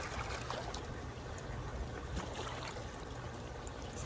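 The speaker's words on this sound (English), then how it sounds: "push this little flap open and allow water in" Water runs into a reusable water balloon toy through a small flap, a soft steady trickle and rush heard quietly and close, with no talking.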